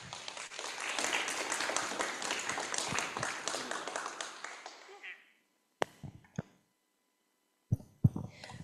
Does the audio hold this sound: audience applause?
yes